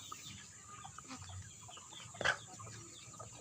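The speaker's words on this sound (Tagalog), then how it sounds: "nagpapakain po tayo mga farmers ng ating mga alagang manok" Black Australorp and Rhode Island Red chickens cluck faintly in the background during feeding on a farm, with one short, louder sound partway through.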